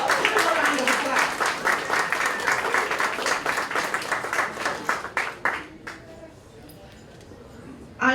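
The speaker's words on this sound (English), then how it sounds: "a round of applause." Loud, dense applause from a crowd at a diplomatic cultural showcase in New York for several seconds, then tapering off to a few scattered claps and quiet, with a brief burst at the very end.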